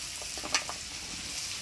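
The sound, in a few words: chilli and onion frying with potatoes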